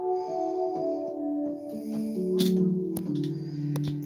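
Pipe organ flute stops with an 8 foot stop added play a short phrase of sustained, overlapping notes that step between pitches, with a few faint clicks and handling noises.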